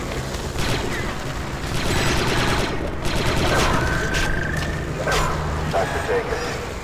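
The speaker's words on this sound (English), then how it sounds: "Why shooting, boss?" Rapid gunfire from the video game Star Wars: Republic Commando rattles continuously, dense and loud, mixed with game effects and voices talking over it.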